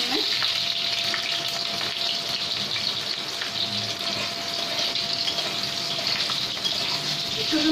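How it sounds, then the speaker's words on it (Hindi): Cut potatoes sizzle and hiss steadily in hot cooking oil, a dense continuous frying crackle that stays close and fairly loud throughout with no talk over it. "देखिए हमारा तेल गर्म हो चुका है, इसमें मैं अभी आलू डाल देते हैं।"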